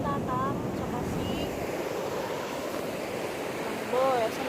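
Sea surf washes steadily onto the shore at a seaside fishing spot, a continuous broadband roar with wind buffeting the microphone and a voice speaking briefly near the start and end.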